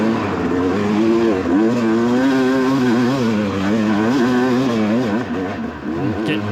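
A motocross dirt bike revs hard climbing a hill at a motocross race, its engine loud and close, rising and falling in pitch throughout with a steady, continuous roar.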